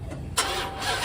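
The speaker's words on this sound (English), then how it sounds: "Now we're gonna see if it starts." A used Mopar Dodge car engine cranks and catches, a short burst of starter noise swelling into a steady running rumble, close and without talk.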